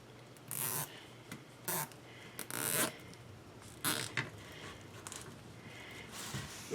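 Several short ratcheting zips as a plastic zip tie is pulled through on a wire wreath frame, quick bursts spaced a second or so apart against quiet handling noise.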